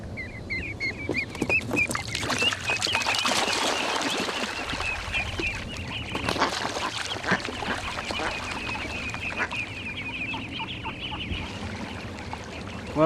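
A mother duck and her ducklings being released near swans, with rapid high peeping from the ducklings and clucking fowl calls over rustling outdoor noise, fairly close and continuous.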